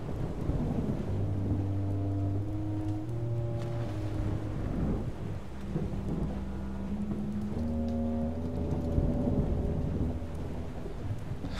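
Thunderstorm with steady rain in the survival game FAR Changing Tides, a broad continuous roar of rain and low thunder rumble that runs the whole time under sustained tonal music.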